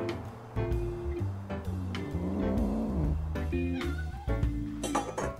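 Many cats gather at food bowls in a room, making low purring and soft meowing sounds. Faint clinks are heard over a steady background, with no talking.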